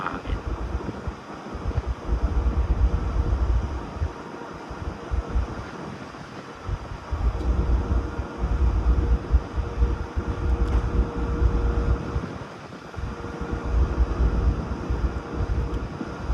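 Strong wind at sea on a cruise ship deck buffets the microphone in loud, low rumbling gusts that rise and fall throughout, with no voices.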